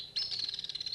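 A portable computer plays a short synthetic bird chirp, a rapid fluttering trill that lasts under a second, clear and alone.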